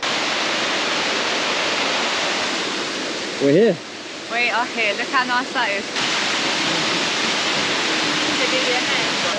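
Waterfall near a river at Bukit Lawang, Indonesia, roaring as a loud steady broadband rush that fills the scene, briefly dipping while people talk nearby before returning at full strength.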